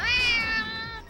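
A single sharp, drawn-out cat yowl from a fight in the video game Castlevania: Lament of Innocence, loud and close, lasting about a second before cutting off.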